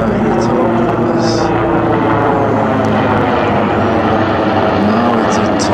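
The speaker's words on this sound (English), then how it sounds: "We've got a black hawk coming over the top of us." A tall rescue helicopter about the size of a Black Hawk passes overhead at dusk, its loud, steady engine and rotor roar filling the air continuously while a person talks over it.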